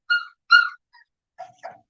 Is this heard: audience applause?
no